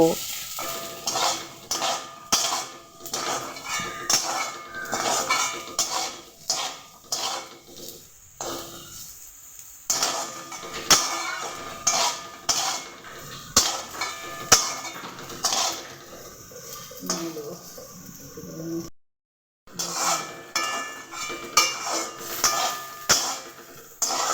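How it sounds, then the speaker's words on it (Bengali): Potatoes and poppy seeds fry together in a pan, with repeated rhythmic scraping and metallic clinks of stirring over a soft sizzle, broken by one brief pause, and no voices. "আলুগুলোকে পোস্তর সাথে মিশিয়ে নেব এবং আলু ও পোস্তকে একই সঙ্গে ভেজে নেব"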